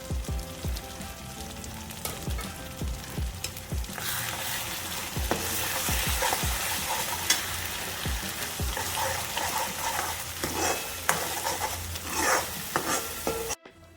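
Ground masala sizzling and frying in oil in a pan for fish curry, with steady close crackle and occasional stirring scrapes, alone without talk.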